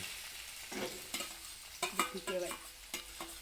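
Bottle gourd halwa cooking in a pan while being stirred, with a faint sizzle under repeated scraping and stirring strokes in an irregular rhythm, close and fairly quiet.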